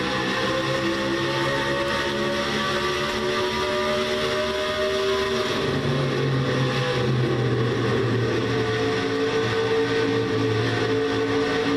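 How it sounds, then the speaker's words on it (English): A race car engine in a Castrol GTX Cup Series race at the Sylvania 300 drones loud and constant through a lap, its pitch dipping and climbing again midway as the throttle eases off and is reapplied through a turn. "let's listen to the car on this lap here."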